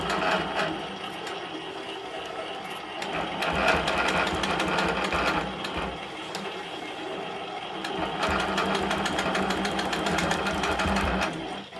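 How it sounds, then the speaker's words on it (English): An Innova longarm quilting machine stitching a custom quilt with ruler work, giving a continuous rapid mechanical chatter of the needle that speeds up and slows in stretches, close and steady with no talking. "My Innova has a lot of different settings, so I can program how fast the needle moves on its own, so I can make very precise corners."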